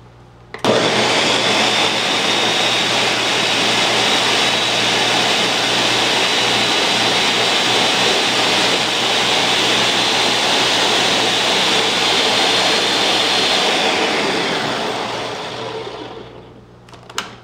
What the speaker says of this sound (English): And we're just gonna blend that up.